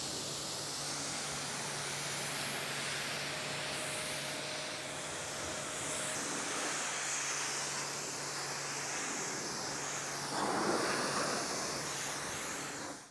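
Water sprays a Ford Mustang during the pre-rinse of a wash, a continuous rushing hiss that swells briefly near the end, with a faint steady hum underneath.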